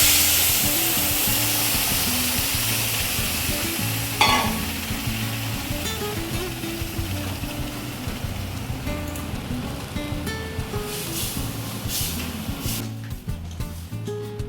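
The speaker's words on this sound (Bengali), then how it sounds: "এই যে মরিচটা ভাজা হতে পাঁচ ফোড়ন দিয়ে দিল।" Dried chillies and five-spice (panch phoron) fry in hot oil for a Bengali lau ghonto, giving a loud, continuous close-up sizzle with a sharp spatter burst near the start and crackling that slowly settles.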